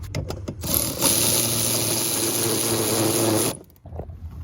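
A power tool whirs up and runs steadily for a few seconds at close range, then winds down, with a few clicks and taps before and after, while cleaning threads on a pool filter band clamp.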